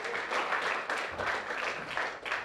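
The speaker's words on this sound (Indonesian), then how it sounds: "beri tepuk tangan untuk model pendamping" Audience applause for the accompanying models at a stage prize event, a steady, moderately distant patter of many hands clapping with little talk.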